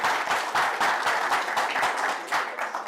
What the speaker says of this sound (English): Can we give a big round of applause to all the award winners?